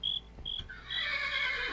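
A horse neighs in a modded Minecraft game, a bright, shrill whinny that rises and trails off over about a second, preceded by two short high game beeps; fairly close and alone.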